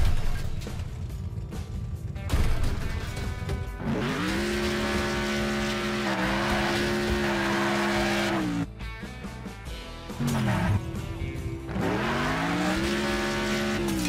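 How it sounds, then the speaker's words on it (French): Cars in the Next Car Game racing game skid and screech through a loud stretch of engine roar, with long rising and falling tire squeals and revving that briefly cut out and return. "c'est un jeu en fait, il faut détruire sa bagnole"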